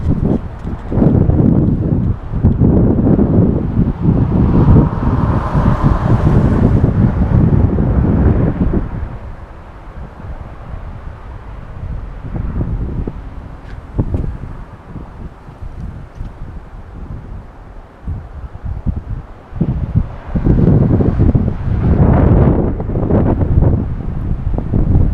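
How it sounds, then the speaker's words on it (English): Strong gusting wind buffets an outdoor microphone on a rocky hiking spot in the American West, roaring loudly and continuously with brief lulls. "It's super windy"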